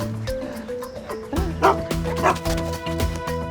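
Hugo, a big dog, lets out a quick series of barks, yips and whimpering whines while playing, close and fairly loud, with short pauses between bursts.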